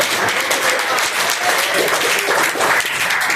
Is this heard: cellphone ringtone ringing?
no